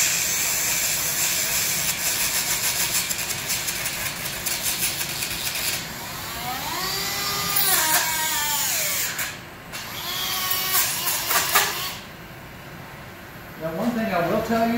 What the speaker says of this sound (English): So I'm going to grab a Dremel.